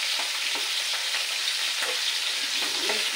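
Roe from a puti hilsa fish fries in oil with a loud, close, continuous sizzle and light crackles of stirring.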